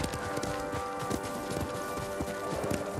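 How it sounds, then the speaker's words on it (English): Horse hooves clip-clop steadily in Ghost of Tsushima, a quick continuous trot over a busy game soundscape with music and ambience, no voices over it. "you ride your horse"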